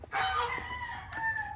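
A rooster on a farm gives one close, loud crow that lasts just over a second, with a brief clucking start and a drawn-out, wavering call.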